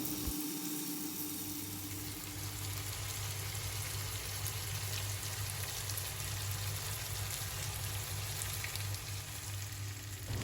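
Fish frying in oil in a clay pot with curry leaves added, giving an unbroken dense sizzle at an even level throughout, close and fairly quiet, with no voices.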